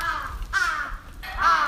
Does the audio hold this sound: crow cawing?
yes